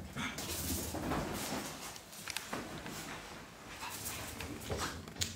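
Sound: newborn Yorkshire terrier puppies whimpering

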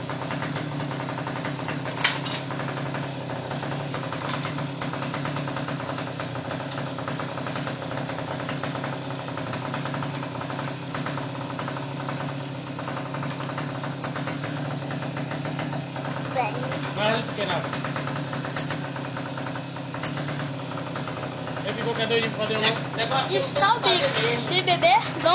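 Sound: small engine on a motorized beer crate

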